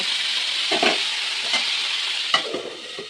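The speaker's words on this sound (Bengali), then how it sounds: "উচ্ছে আলু ভেজে নেব। এরপর আলুটা দিয়ে দেব। একটু নেড়ে তারপর চাপা দিয়ে রেখে দেব।" Bitter gourd and potato frying in a pan seasoned with bay leaf and five-spice, with a constant close sizzle and several scraping stirs of the spatula.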